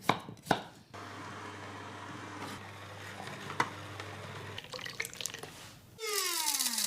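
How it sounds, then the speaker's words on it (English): A knife chops peeled beetroot on a board in a home kitchen, giving a few sharp knocks at the start. A tap then runs water steadily into the sink toward the end. "So first I'm going to peel and chop the beetroot and juice it."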